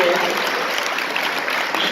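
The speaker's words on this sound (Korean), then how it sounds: "박수부터 먼저 한번 부탁드리겠습니다." An audience at a business lecture event applauds, giving a dense, steady wash of clapping that holds at full strength for the whole two seconds.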